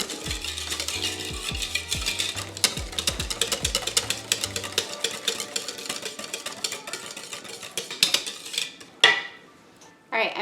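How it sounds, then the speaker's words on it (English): A whisk scrapes and clinks rhythmically against a bowl, mixing apple cider loaf cake batter with melted butter, in steady close strokes, with a few louder knocks near the end. "I'm just gonna whisk this until it's combined"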